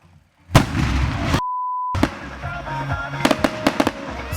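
A fireworks display at a traction engine rally, with loud crackling bursts, a sharp steady beep tone briefly interrupting, then further close bangs and scattered cracks in quick succession.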